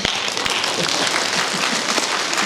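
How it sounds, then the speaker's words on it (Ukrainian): Applause from an evening stage audience fills the space as a dense, steady patter of many hands clapping, close and continuous throughout. "Мені аплодують."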